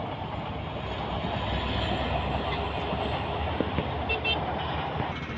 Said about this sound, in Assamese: এইফালে ট্ৰেইন গৈ আছে